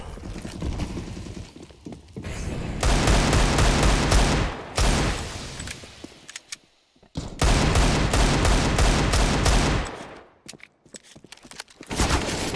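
Dense, rapid gunfire from a Counter-Strike match on the Cache map rattles on in long loud bursts, broken by brief quiet gaps and scattered sharp shots.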